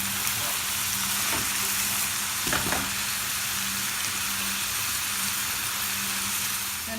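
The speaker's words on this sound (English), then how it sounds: "we're going to stir until the meat is almost fully cooked" Minced beef fries in a pan with a constant loud sizzle, broken by a couple of brief scraping stirs early on.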